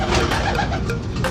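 Homing pigeons arriving from a race coo and flutter nearby in a dense, continuous chorus of soft, throaty calls.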